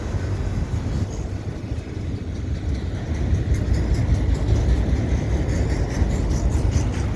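A CP mixed freight train passes at Dorval in winter, giving a continuous rumbling roll of wheels and cars that builds slightly in loudness and holds steady throughout, with no voices.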